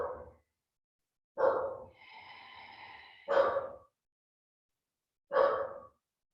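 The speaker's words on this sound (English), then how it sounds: "And there's my dog if you hear her." Pet dog indoors during a yoga session, giving three short, soft barks or huffs spaced about two seconds apart, with a low whining breath between two of them; faint and nearby in an otherwise quiet room.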